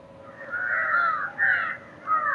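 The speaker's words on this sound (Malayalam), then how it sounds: "ഇവിടെ മൊത്തം കാക്കകളുടെ സൗണ്ട് മാത്രമേ കേൾക്കാനുള്ളൂ" Crows caw nearby, three harsh calls in a row with short pauses between, against a quiet background.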